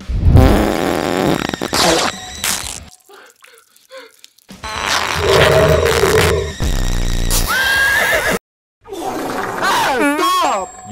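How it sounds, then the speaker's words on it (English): Fart noises blasted over Fortnite voice chat in a random duos match, a series of loud, squelchy bursts broken by short gaps and mixed with shouting voices and game sounds. "He keeps farting on me!"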